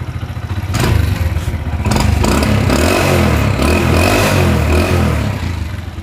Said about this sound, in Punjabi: ਇੰਜਣ ਵੀ ਜਮਾ ਹੀ ਸਾਇਲੈਂਟ ਹੋ ਗਿਆ